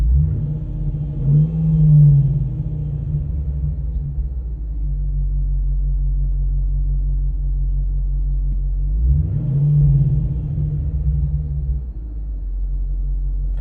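A 5.7 HEMI V8 fitted with an 85mm throttle body, parked, revs up twice from a deep steady idle, each rev rising then falling back to a loud, rumbling idle with no talking.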